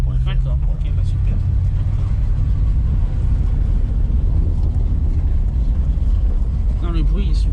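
A Ford Mustang's engine rumbles low and steady from inside the car during a ride, a continuous deep drone with a French-speaking voice talking over it throughout.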